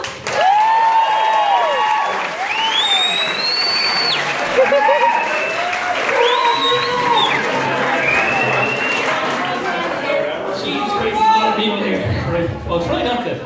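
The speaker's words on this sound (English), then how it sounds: "can we give him a big round of applause?" An audience at a Saturday night stand-up comedy show applauds steadily for the comedian, with whoops and shouted cheers rising above the dense clapping throughout.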